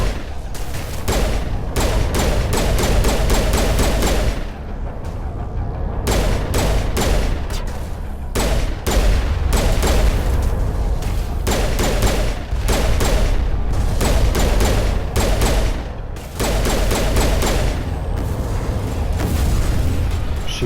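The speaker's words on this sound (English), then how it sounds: "She does like her pistol" Rapid pistol gunfire in the Mass Effect video game on Feros, with dense, loud bursts of shots repeated over and over and brief pauses between volleys.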